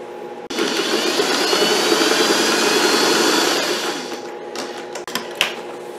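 A sewing machine stitches a tote bag in a loud, steady whirring run that lasts several seconds, then slows into short bursts separated by clicks and pauses, with no voices.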